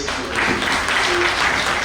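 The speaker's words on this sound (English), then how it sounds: "Big round of applause, please." An audience at a book release ceremony applauds. Steady, dense clapping fills the brief stretch at a fairly loud level.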